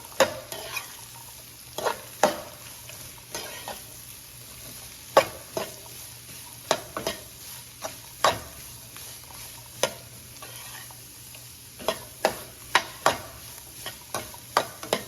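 Beetroot being sautéed with onion in a pan, a quiet steady sizzle broken by repeated sharp scrapes and clanks of a spatula stirring against the metal, with no one speaking.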